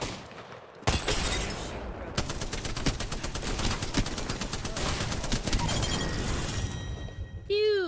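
Rapid automatic gunfire and bursts of shots in the Apex Legends battle royale shooter, loud and continuous with dense repeated cracks, ending in a rising sci-fi sweep effect; voices are heard faintly.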